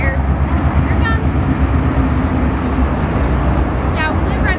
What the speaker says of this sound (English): there's a train that's gonna roll by here